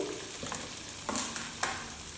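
Spices with ginger and garlic paste frying in a pan for a ridge gourd and prawn dish, a close, steady sizzle broken by a few sharp stirring scrapes, no talk.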